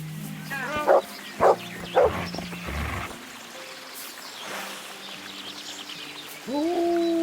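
A dog in the medieval game Kingdom Come: Deliverance gives three sharp, loud barks in quick succession, followed by quiet outdoor ambience and then a brief voice near the end.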